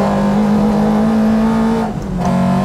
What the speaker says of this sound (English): Listen to that intake noise.